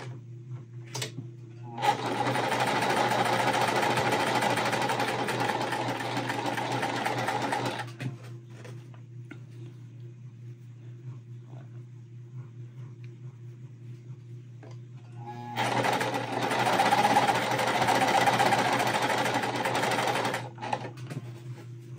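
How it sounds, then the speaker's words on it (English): A sewing machine chain stitches quilt pieces in two long, steady runs of rapid, whirring stitching, close by, separated by a quieter stretch of low hum and small clicks. "I am gonna chain stitch these all together."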